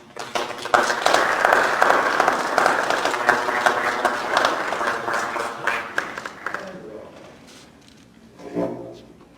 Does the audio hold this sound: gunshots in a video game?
no